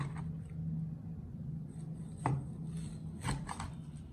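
Soaked braised pork belly sliced thin with a sharp slicing knife on a cutting board, quiet with two distinct knife strikes against the board close by.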